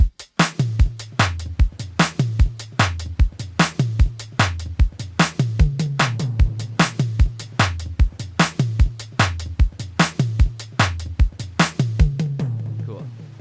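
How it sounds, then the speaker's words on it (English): Drum-machine beat with heavily compressed, gated toms: punchy low thumps and sharp transients in a steady, repeating pattern, loud and up front with no voices. "I've got a very like gated tom sound, so I'm compressing the heck out of this channel."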